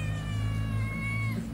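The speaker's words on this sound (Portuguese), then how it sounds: "Temos gatinho também." A cat at a beach resort gives one long, drawn-out meow, clear and fairly close, over steady low background rumble.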